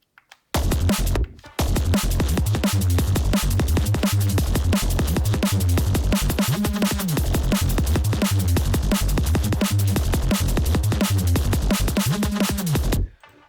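Loud Reese bass synth from a Serum preset driving under a dense drum pattern, punchy hits and bright hats running steadily for about twelve seconds before cutting off.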